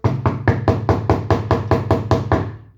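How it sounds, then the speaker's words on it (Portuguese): Knocking on a hotel room door, a steady run of about a dozen firm, evenly spaced knuckle raps, close and loud with no voices. "Bateu na porta."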